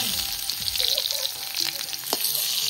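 Potatoes and fish fry in hot oil, giving a dense, steady sizzle with crackles and the faint scrape of stirring, close and moderately loud, with no one talking.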